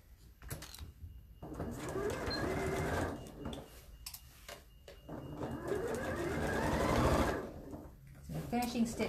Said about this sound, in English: And then we can stitch to the pocket. Just keep it out of the way and stitch the seam.